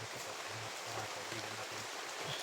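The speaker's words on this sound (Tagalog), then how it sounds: "Ito ang tinatawag na umuulan, umaraw." Rain falls while the sun shines, pattering steadily with a soft, broadband hiss, while faint low murmurs come and go underneath.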